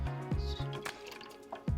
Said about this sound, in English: Plus we're going to add the water, that quarter cup we added to the Kokum